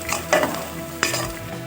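Onions browning in a pot for mutton shorba sizzle steadily while a spoon scrapes and stirs, with two sharper stirring knocks over the constant frying hiss and no talking.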